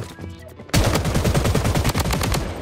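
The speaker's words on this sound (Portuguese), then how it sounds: "O hipfire da minha AK funciona" An AK47 fired from the hip in the shooter game Blood Strike: after a quiet start, a sudden loud burst of rapid automatic gunshots rattles on continuously to the end.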